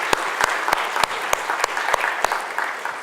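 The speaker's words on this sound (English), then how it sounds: "let's give them a round of thanks and applause." A crowd at a college summit on transforming learning applauds session leaders, with loud, close clapping and a few sharp individual claps standing out at a fairly regular beat over the steady patter.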